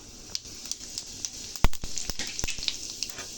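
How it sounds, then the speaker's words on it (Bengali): Whole cumin seeds, a bay leaf and dried red chillies dropped into hot oil crackle and pop in quick, irregular bursts over a soft sizzle, close and fairly loud. "এবার আমি ফোড়নে গোটা জিরে তেজপাতা গোটা শুকনো লঙ্কা দিয়ে দেব"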